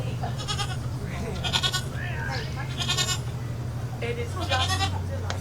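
Several goats bleat in short, wavering cries, some close and some farther off, over a low steady background hum.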